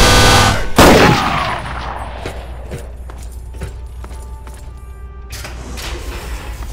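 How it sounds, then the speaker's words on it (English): A loud close gunshot in Fallout 3 opens the clip, followed by scattered fainter shots and impacts at irregular intervals, trailing off amid quieter game ambience. "We gotta shoot our way to the damn president."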